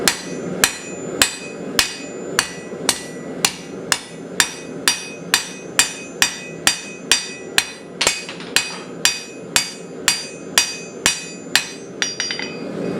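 A blacksmith forging a bulldog head, hammering hot, folded metal flat: about twenty-two sharp, ringing hammer blows land in a steady, brisk rhythm, loud and close, with no talking.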